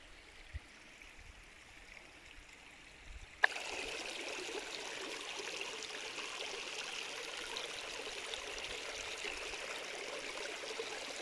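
Water flows steadily in a forest stream, a constant rushing hiss that swells up after a few quiet seconds and continues evenly with no voices.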